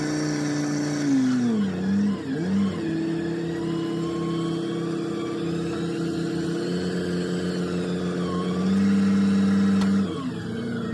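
A Ford Excursion stuck in sand, its engine revving loudly and continuously, rising and falling in pitch with surges as the wheels spin.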